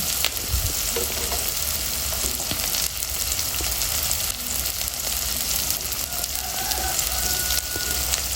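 Onions fry in a pan for a silver carp fish curry with cauliflower and potato, giving a steady, close, continuous sizzle with occasional stirring scrapes throughout, no talking.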